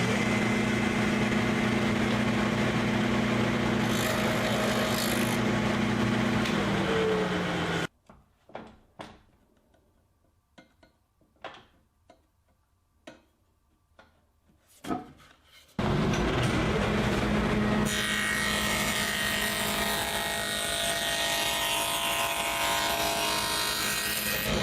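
Table saw cutting a dado through a plywood drawer part over a sacrificial fence, loud and steady with a constant motor whine and rasping wood noise that stops for a quiet stretch of small knocks, then resumes at full volume.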